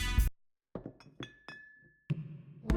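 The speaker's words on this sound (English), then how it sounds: "Combine all these in a glass of warm water and voila!" Glass clinks and knocks as ingredients are combined in a glass of warm water for a gut-friendly morning drink, several short bright taps in a quiet kitchen setting.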